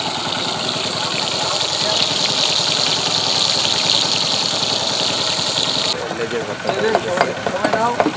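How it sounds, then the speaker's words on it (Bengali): Hilsa fish fries in mustard oil at a Mawa ghat eatery with a loud, constant sizzle and a low engine-like hum beneath it. Near the end, clattering stirring noises break in. "ভাজতে দিছে, ভাজা হচ্ছে।"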